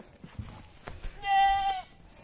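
A male goat on a goat farm gives one clear, loud, wavering bleat of about half a second, with soft shuffling and farmyard noise before it.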